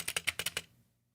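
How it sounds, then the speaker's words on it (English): Spacebar on a membrane keyboard rattling as it is tapped: about six quick, close clacks in a fast run, then silence. "there's a small chance that the spacebar or whatever sounds like this"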